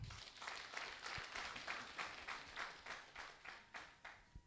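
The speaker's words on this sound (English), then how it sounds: "Please, may we give him a round of applause." Audience at a Nigerian Civil War symposium giving applause to an honored general, heard as faint, distant clapping that swells and pulses steadily throughout, slightly muffled as if in a large hall.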